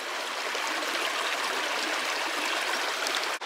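A small mountain creek about two feet wide flows steadily over rocks, giving a constant close rushing and gurgling wash that is heard alone and cuts off briefly near the end.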